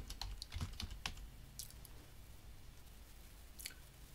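Computer keyboard typing, quiet and close, with a quick cluster of keystrokes followed by a few scattered taps and pauses.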